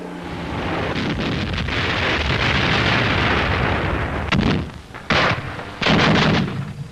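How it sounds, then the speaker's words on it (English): Light flak guns fire at an observation post on a tower in wartime Warsaw, a dense, continuous roar of gunfire and blasts with sharp bursts near the end, loud and close, with wind buffeting the microphone. "Leichte Flak beschießt ein Beobachtungsnest auf einem Turm."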